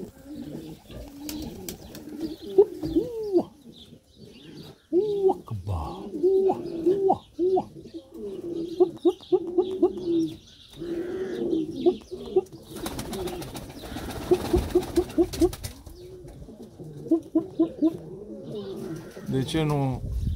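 Domestic pigeons coo in repeated low, throaty, rolling calls close by. A person talks over parts of it, and there are a few brief flutters and bumps.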